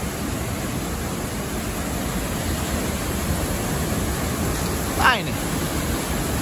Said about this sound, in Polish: Słyszycie to? Wodospad, gdzieś pobliżu.